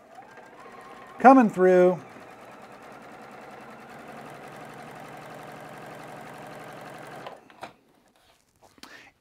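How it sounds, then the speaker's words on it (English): A sewing machine stitches along a pressed line in purple square quilting fabric, running as a steady, moderate mechanical hum for several seconds after a brief spoken phrase, then stopping. "we're going to sew right along the pressed line in the purple square fabric"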